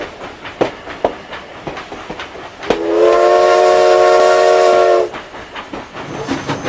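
A steam locomotive sound effect: scattered clanks and hisses, then a loud sustained steam whistle with a rich, even harmonic tone that holds for about two seconds and cuts off, followed by more rattling mechanical knocks.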